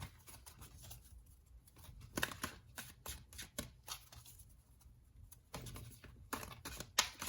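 Oracle cards being shuffled by hand: soft, close riffling and flicking in uneven bursts, with quiet pauses between them.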